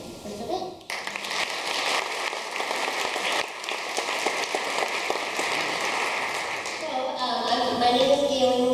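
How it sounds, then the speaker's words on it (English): A college convocation audience breaks into sustained, dense applause that carries on steadily, with a voice faintly over the clapping at the end. "let's give a round of applause to Carleton for getting the ramp and the hands-on interpretation for today"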